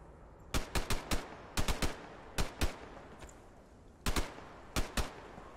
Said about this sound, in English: This Uzi is really bad.